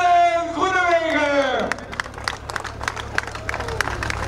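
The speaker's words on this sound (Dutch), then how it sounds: "we gaan een applaus laten horen voor Dylan Groenewegen" Outdoor crowd applause for professional cyclist Dylan Groenewegen at an Almelo event: a voice is heard calling out over loudspeakers, then scattered, fairly distant clapping and cheering from onlookers follows.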